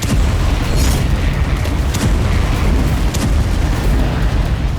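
Heavy bombardment pounds the Tulkarm refugee camp in a dense, loud rumble of booms that never lets up. Several sharper blasts stand out against the continuous roar of explosions.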